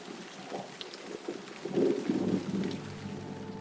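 Rumbling thunder swells over steady rain falling on a 10-acre farm's house and gardens, growing louder midway before settling back to a continuous wet patter; no one speaks.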